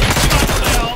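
Dense, loud burst of gunfire in the PUBG battle royale game, rapid overlapping shots filling the whole second with a continuous rattling volley.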